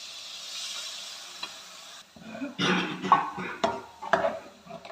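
Jaggery added to roasted soybeans in a pan for payasam: a faint steady hiss, then louder stirring scrapes and a sizzle with a few sharp clinks of a spoon against the pan, close and with no talk.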